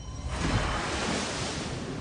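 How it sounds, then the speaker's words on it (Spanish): A roaring wall of ocean water rushes back in, a broad, steady surging roar of surf with wind noise, heard alone without voices. "Un muro rugiente de agua vuelve para llenar el vacío."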